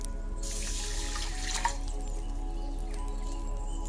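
A cup of water pours into a saucepan with a continuous splashing gurgle. It fades into a quieter trickle against a low steady hum.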